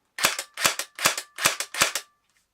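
A Tokyo Marui MP5K airsoft gun fires five crisp, close semi-automatic shots on single-shot mode, evenly spaced about two per second, each a sharp crack with a short mechanical tail.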